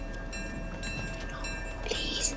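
A moving train in Fortnite gives a low, steady rumble with faint metallic squeals and tonal hums, continuous and fairly quiet across the short stretch.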